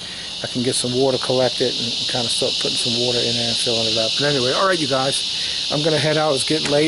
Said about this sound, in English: You can hear the locusts in the background.